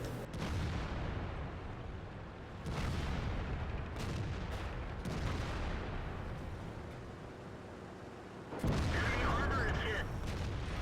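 Artillery shells fire and miss in a tank battle game featuring a T57 Heavy on the Live Oaks map: several sharp broadband blasts and booms over continuous battle noise, with a louder explosive burst near the end.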